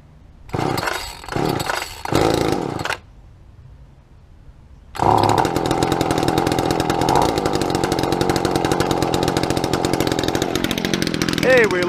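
Small two-stroke trimmer or blower engine on choke, with a few sharp pull-start bursts, a short pause, then the engine catching and buzzing loud and steady close by until the end.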